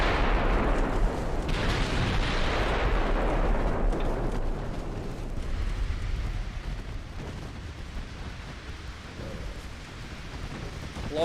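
Warship explosions and torpedo hits in Ultimate Admiral Dreadnoughts, a naval battle game set in a war with Japan, a loud rumbling wash of blasts that starts heavy and slowly fades into a lower, steady roar.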